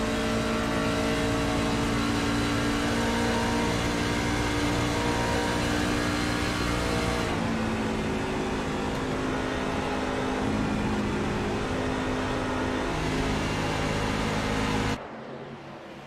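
Racing truck engines roar in the iRacing truck series at Charlotte Motor Speedway, a loud sustained drone that shifts pitch as the trucks run, then drops away abruptly near the end.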